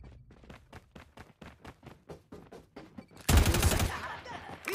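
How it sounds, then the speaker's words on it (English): Rapid sentry gun fire in a Call of Duty–style multiplayer match, a steady stream of sharp evenly spaced shots followed by a loud dense burst of explosion-like noise near the end. "Sentry gun deployed."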